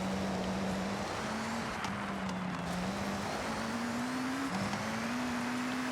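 A 2001 Mitsubishi Lancer Evolution VI GSR TM Edition with 650 extra horsepower, driven in an offroad racing video game: a steady, droning engine note rises through each gear, then drops briefly at every shift, with no voices.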